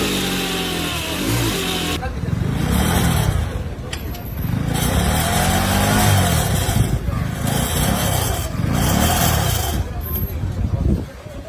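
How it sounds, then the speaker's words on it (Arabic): A modified motorcycle engine revs repeatedly on a police power-testing machine, rising and falling in loud sustained bursts with a steady mechanical drone underneath. "هذه هي الاله اللي ولاو كيعتمدوا عليها العناصر الامنيه المكلفه بمراقبه السير والجولان في تحديد قوه المحرك ديال الدراجه الناريه"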